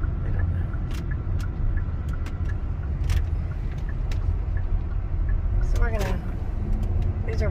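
A car passes on a campus road near a stadium, its broad engine and tyre rumble heavy throughout, while people chat over it.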